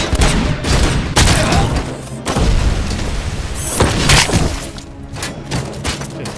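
RoboCop played on PS5, with dense rapid gunfire and heavy booming impacts rolling through a loud firefight, shots stacking in irregular bursts close up and no one talking.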